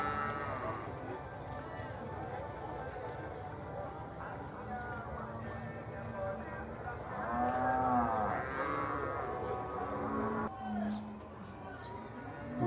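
Heifers and cattle mooing in a muddy corral at a livestock fair in Campina Grande, Brazil: drawn-out, rising and falling lows, loudest midway, over constant crowd and yard noise while someone talks.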